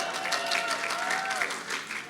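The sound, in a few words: audience applauding the faculty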